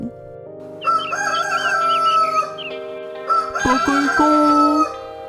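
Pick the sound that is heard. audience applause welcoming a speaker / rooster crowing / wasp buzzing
rooster crowing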